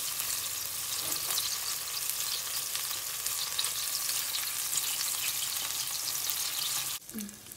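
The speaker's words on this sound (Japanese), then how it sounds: "たっぷりのバターにパンをこんがり焼いていきます" Bread toasting in plenty of butter in a frying pan, giving a steady, close, busy sizzle that runs on evenly and then drops off abruptly near the end.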